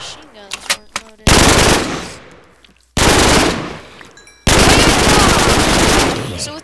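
Machine guns from Minecraft's Flan's Mod fire in three loud, dense bursts, each starting abruptly and trailing off, with no talking over them.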